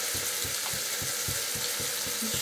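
Tomatoes frying and sizzling in a pan, a steady bright hiss with soft rhythmic stirring thumps roughly every half second, close and unbroken.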